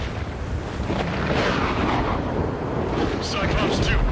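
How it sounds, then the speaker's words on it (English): Missiles exploding in the Ace Combat 7 air-combat game, a loud continuous rumbling blast layer under busy in-game radio chatter and jet noise. "Dodge that missile."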